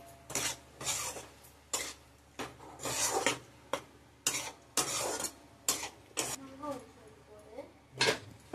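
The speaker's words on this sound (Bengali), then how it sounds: "এখন আমরা মটর আর আলুটাকে ভালো করে কষবো মশলায়।" Peas and fried potatoes stirred in a spice masala in a pan, heard as rhythmic scraping and rubbing strokes of a spoon against the metal, close and fairly quiet, with faint sizzling underneath.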